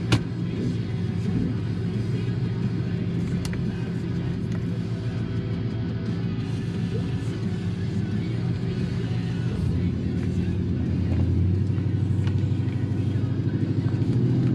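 A stock-engined 1996 Impala Super Sport with an LT1 V8, Tri-Y headers, catless mid-pipes and a 2.5-inch stainless exhaust with Flowmaster 40 mufflers cruises along, giving a steady low exhaust rumble heard from inside that swells slightly near the end.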